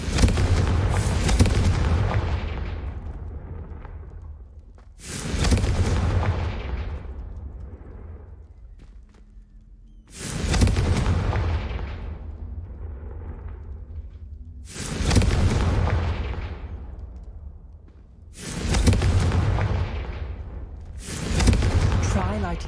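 Confringo fire spell blasts in the Hogwarts Legacy video game: five or six loud booming bursts spaced roughly four to five seconds apart, each with a sharp attack and long decaying rumble, with speech present.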